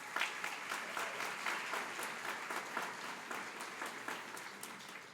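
A college graduation audience applauding an award winner, dense sustained applause from a crowd, fairly distant and even, with no talk over it.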